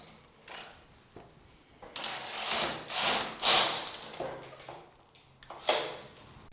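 A knitting machine carriage drawn across the needle bed to knit a row of a cardigan, making several rough, scraping sweeps that rise and fall in loudness, separated by short pauses and light clicks.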